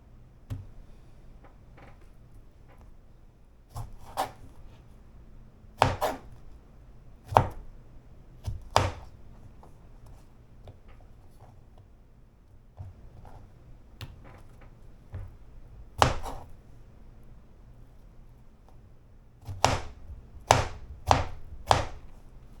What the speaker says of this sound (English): You're gonna use the same bowl to slice these strawberries out.